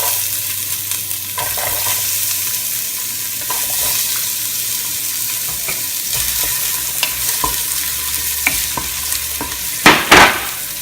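Onions drop into hot oil with fizzled cumin seeds over high heat for a sweet potato and chickpea curry, giving a steady loud sizzle with clinks of stirring and a sharp crackle near the end.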